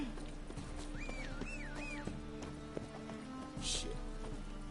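Hooves of the horse Roach clip-clop at a steady gallop in the game The Witcher 3: Wild Hunt, mixed with game music and ambient effects, while a voice talks briefly over them.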